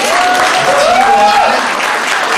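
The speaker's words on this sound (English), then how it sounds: "Round of applause for Micah, please." A short burst of steady audience applause at a live speaking event, loud and dense throughout with a faint tone running beneath the clapping.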